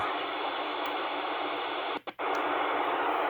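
Steady, loud static hisses continuously from a President Harrison AM/FM CB radio as its high cut filter is switched on and off, broken by a brief double dropout near the end before the hiss resumes.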